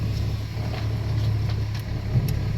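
A truck pulls onto a scrap yard scale carrying a stripped Porsche car shell, its engine a steady, fairly close low rumble throughout, with no talking.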